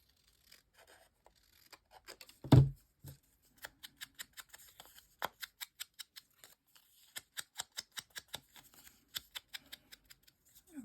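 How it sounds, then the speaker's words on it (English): Scissors snip through paper tags at a craft table, a series of short crisp clicks and cuts, fairly close and quiet, with one louder thump partway through. "I might have to cut down a little. That's okay. We know how to use the scissors."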